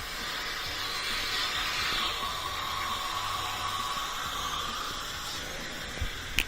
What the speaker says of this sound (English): We got all that water coming out.